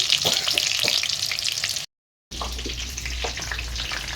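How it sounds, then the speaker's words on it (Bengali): Onions frying in oil in a wok for a meat dish, a dense close sizzle with scattered crackles, briefly cut to silence midway and then resuming with a low rumble underneath. "পেঁয়াজ দিয়ে দিয়েছে।"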